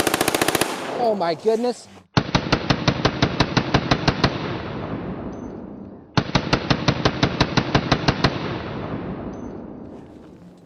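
PSR41 rifle fired in two rapid strings of evenly spaced, loud close shots, each burst lasting about two seconds with a brief pause between, after a short spoken exclamation at the start.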